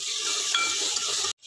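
Onion and tomato masala sizzles and fries in a pan with a bright continuous hiss and a faint clink from stirring, then cuts off abruptly.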